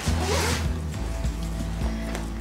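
A zipper on the main pocket of a makeup artist's kit bag is pulled open in one continuous, close, rasping run, with a few soft handling rustles after it.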